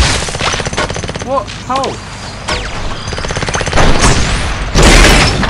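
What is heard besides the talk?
gunfire from the video game Crash of Cars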